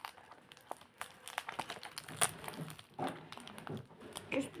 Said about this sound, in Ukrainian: добре розірвемо пакетик